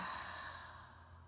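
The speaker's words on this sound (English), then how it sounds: "And breathing out." Slow, soft exhalation by a person during a guided meditation, a quiet drawn-out breath lasting just over a second with no talking.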